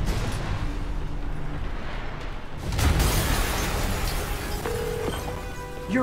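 An explosion in the video game Spider-Man Remastered lands as a sudden broadband burst about halfway through, over a continuous rumbling game background with no talk.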